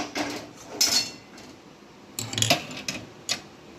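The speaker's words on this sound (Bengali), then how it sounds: "এইবারে আমি মাছটাকে এই যে কৌটোর মধ্যে আমি ঢেলে নেব।" Cooked rohu fish dressed with lemon juice tipped from a pan into a container, heard as a few sharp metallic clinks and scrapes in short bursts against quiet room noise.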